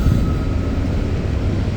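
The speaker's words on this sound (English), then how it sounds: "3470 ET44 leading the train" CSX freight train led by ET44 locomotive 3470, a loud, close, steady roar of engine and rolling wagons with a faint high whine, no voices.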